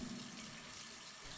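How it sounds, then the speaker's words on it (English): Cold tap water runs steadily into a sink for rinsing celery stalks, a soft continuous close hiss with no talk over it. "Rinse each stalk of celery under cold running water."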